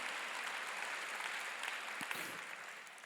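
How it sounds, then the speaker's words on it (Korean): A church congregation applauds to give glory to God during a theological school graduation service, a soft, distant wash of steady clapping with a couple of slightly sharper claps near the end. "박수로 하나님께 영광 돌려가지고."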